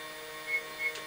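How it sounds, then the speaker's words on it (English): A BQ Hephestos V2 3D printer runs quietly in the background, giving a faint steady whir with two soft rising motor swells. "It'll just sit there in the background printing."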